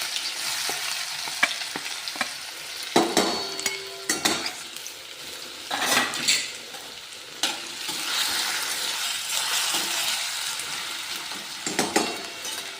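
Potatoes added to a pan and fried, a crackling sizzle with repeated stirring scrapes and a few utensil clinks against the pan, moderately loud and uneven.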